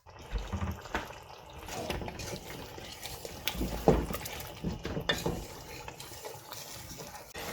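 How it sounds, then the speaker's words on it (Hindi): Water is poured into a pan of simmering Pakistani-style chicken karahi with sliced tomatoes, a soft splashing pour amid light clinks of utensil against pot and gentle stirring, fairly quiet and close. "थोड़ा सा इसमें आप पानी ऐड करें"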